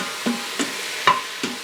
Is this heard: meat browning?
yes